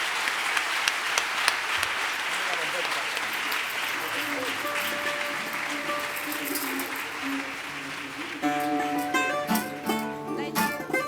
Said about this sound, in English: Please keep the applause going for David Prudhomme.